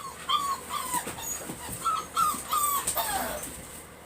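A litter of newly weaned American Bully puppies whimpers and whines close by in a string of short, high, thin cries over about four seconds.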